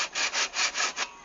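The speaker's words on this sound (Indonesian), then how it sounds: "Nah, gergaji." A hand saw cutting with about six quick, even back-and-forth strokes, close and clear, while assembling a simple hydroponic tower.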